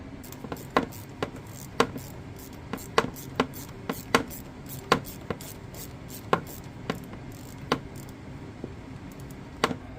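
Ratcheting socket wrench with a deep socket and long extension loosening AC compressor line fittings on a car: a steady series of sharp metallic clicks at an irregular pace, close and fairly quiet, with no talking.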